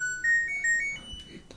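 An LG clothes dryer plays its power-on melody, a short, clear run of rising electronic tones, close and alone in a quiet room.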